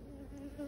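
Honeybees buzzing at an open hive: a faint, steady hum with a few wavering tones, close by and alone, lasting under a second.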